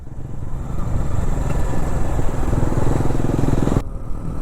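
A motorcycle engine runs steadily and loudly up close on a Kerala roadside after an accident, a rough continuous drone with mechanical clatter that cuts off abruptly near the end.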